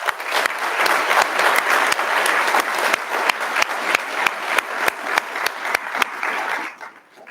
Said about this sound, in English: I'd like to give a round of applause to our support staff here at Mississippi Fire Academy.